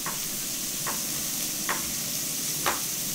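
Meat browns in a hot pan for crock pot pizza soup, a steady loud sizzle filling the clip with a few faint scraping stirs, and no one speaking.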